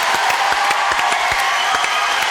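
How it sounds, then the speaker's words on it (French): Applause from a TV studio audience for a group of young guests, a steady wash of clapping with brief sharp claps standing out, sustained and fairly loud across the short stretch. "Applaudissements pour ces jeunes gens"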